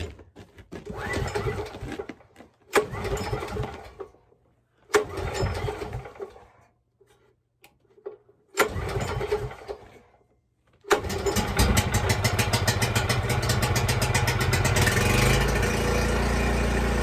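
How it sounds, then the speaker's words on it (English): A gas generator at a camp is pull-started with several rough recoil pulls and sputters, then catches at about eleven seconds and runs steadily and loudly close by with no speech. "Generator out right on the side of the camp."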